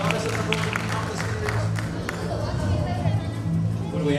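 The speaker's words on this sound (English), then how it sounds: "Crowd, give them their applause." A crowd at a Greek gods festival applauds in steady, moderately loud clapping, blended with crowd chatter and a speaking voice over the top.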